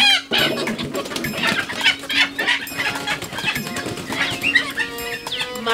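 Several chickens cluck and squawk close by in an agitated, overlapping chorus, with some wing flapping and sharp cries rising above the steady clucking.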